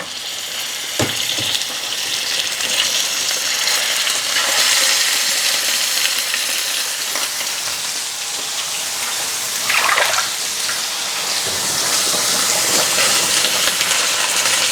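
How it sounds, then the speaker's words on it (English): Ground beef hissing and sizzling loudly in hot oil with onions, a steady close crackle that runs throughout with slight swells as the meat is moved around the pan. "So my ground beef, I'll just add it to the oil and the onions."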